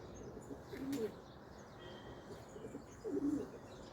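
Pigeons coo softly in two short bursts over a steady outdoor background hiss, with a faint chirp near the start.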